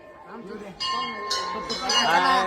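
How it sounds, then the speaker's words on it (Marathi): Temple bells at the Sonari temple rung by visitors: bright, ringing metallic strikes, several overlapping and sustained, loud and close, with voices talking underneath. "इथं सगळेजण घंटा वाजवायला लागले."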